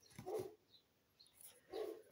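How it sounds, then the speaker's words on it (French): Several dogs bark at a market in China, two loud clusters of barks at the start and end with fainter calls between them. "Vous entendez? Ouais, plusieurs chiens."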